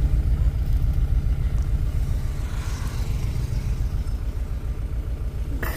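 A car engine runs steadily at close range, a continuous low rumble that holds even throughout with no other sounds standing out.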